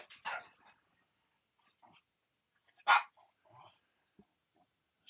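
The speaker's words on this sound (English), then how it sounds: "Sorry about the barking" A dog barks in a quiet room, two sharp barks a few seconds apart with faint whimpers and yips between them, a little distant and alone.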